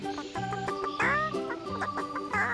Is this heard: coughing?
no